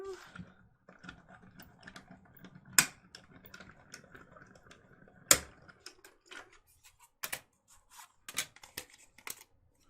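A die cutting machine running yellow cardstock through a small square die gives a series of sharp clicks and snaps, with steady low mechanical rumble early, then scattered crisp clacks, close and moderately loud.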